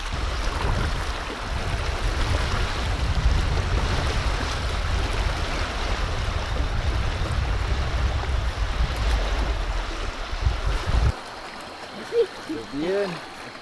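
River water rushes steadily and fairly close after heavy rain, a broad continuous wash that cuts off near the end, followed by brief talking in Spanish.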